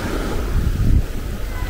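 Surf washing onto a local beach in the Maldives, a steady low rumble of waves mixed with wind buffeting the microphone, with no talk.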